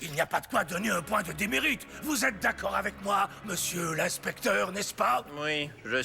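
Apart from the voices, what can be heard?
None of the usual background noises is heard.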